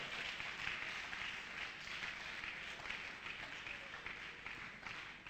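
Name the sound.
applause in church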